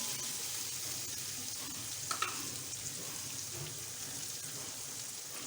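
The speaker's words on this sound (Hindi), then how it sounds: "ये चिकन डाल, थोड़ा सा इसका कलर चेंज करेंगे चिकन का" Chicken frying in a pan with chopped ginger, garlic and green chillies, a steady continuous sizzle with a couple of brief scraping clicks near the middle, close and fairly soft, no talk.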